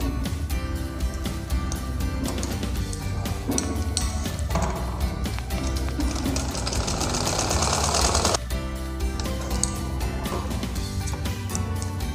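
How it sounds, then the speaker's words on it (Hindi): An electric sewing machine stitches blouse sleeves in rapid continuous bursts, a loud close mechanical rattle with short pauses between runs and a brief change in pitch midway, no speech. "इस तरह से हम एक साइड में रख के सिलाई कर देंगे"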